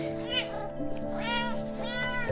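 A cat meows loudly and close, with three drawn-out, rising-and-falling cries spaced across the moment, set against a steady tonal musical background.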